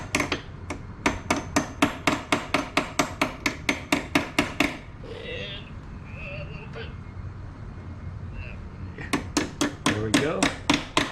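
A hammer taps a part into place on a 2004 Honda XR650L motorcycle, sounding as a rapid, steady run of about twenty close, sharp metallic blows. A quiet pause follows, then another quick burst of strikes.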